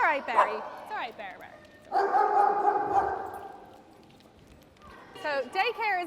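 Dogs at a doggy daycare in Dublin, Ireland, bark, yip and whine in overlapping bursts, with a sustained howling cry in the middle and more excited yelps near the end, loud and close.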